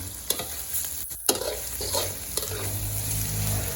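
Salted preserved radish and egg stir-fried in a pan, a steady sizzle with scraping spatula strokes and a few sharp clanks, moderately close and with no one talking.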